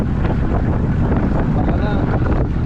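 Strong wind buffets the microphone on a boat headed to Dinahican, a loud, steady roaring rumble with constant gusty noise across the whole stretch and no clear voices.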